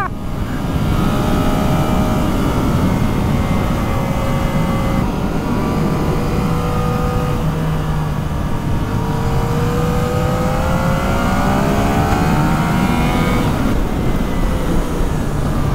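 A 2019 Yamaha MT09 SP motorcycle engine pulls hard under acceleration on a test ride, its loud, continuous roar rising and shifting pitch through gears, with heavy wind rush throughout and no talking.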